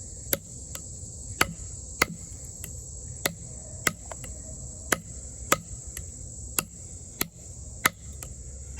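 Steambow K1 fixed-blade hunting knife in N690 steel chopping a hard piece of wood: about fifteen sharp, evenly spaced thwacks over a steady outdoor chorus of chirping crickets, with no talking.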